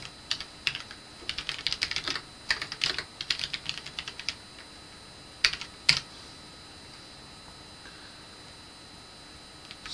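Quiet bursts of computer keyboard typing while code is written in a Linux IDE, rapid clusters of clicky keystrokes for about four seconds, then a few isolated sharper taps before silence.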